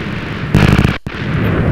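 Minecraft TNT cannon firing in the video game: a loud explosive burst kicks in partway through, followed by a brief cutout and then a sustained rumbling, crackling roar that continues to the end.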